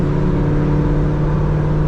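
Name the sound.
Camaro ZL1 with Corsa exhaust downshifting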